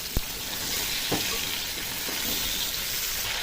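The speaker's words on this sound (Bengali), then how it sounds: "পটলের মধ্যে কিন্তু সামান্য একটু হলুদ দেবো, একটু নুন দেবো, দিয়ে পটলটাকেও ভেজে নেব।" Pointed gourd (potol) pieces seasoned with turmeric and salt fry in hot oil, giving a steady, loud sizzling hiss throughout, with a few faint clinks from the pan.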